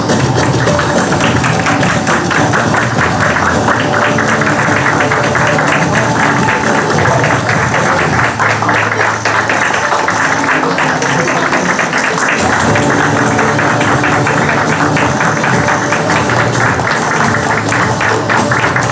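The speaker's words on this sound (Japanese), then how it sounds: "大きな拍手でお迎えください。" Audience applause greets the cast and director arriving at a Japanese film's red carpet event. It is a dense, steady wash of clapping that runs the whole time, blended with loud background music and crowd noise.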